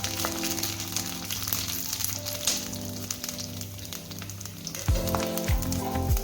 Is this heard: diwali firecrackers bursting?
no